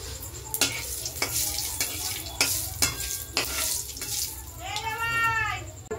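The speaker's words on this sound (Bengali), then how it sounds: "এবার ফোড়নটা দিয়ে দেবো। বাবারে ফাটছে।" Whole spices crackle and spit in hot oil in a home kitchen while ghugni is cooked, sharp pops and sizzling bursts coming close and loud, with water running briefly near the end.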